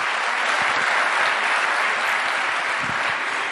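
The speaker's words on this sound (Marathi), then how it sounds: "एकदा जोरदार टाळ्या त्यांच्यासाठी." An audience at an Achievers Day award ceremony breaks into sustained applause for the honoured women, a dense, even patter of many hands clapping continuously for several seconds, fairly loud and close, with no clear voices.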